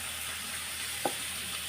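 Shrimp paste (alamang) sautéing in rendered pork fat gives off a steady, close frying hiss, broken once by a single sharp click partway through, with no voices.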